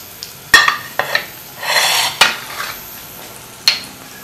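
Snacks fry in a frying pan amid sharp metallic clinks and taps, with a short burst of sizzling between the knocks, close and clear.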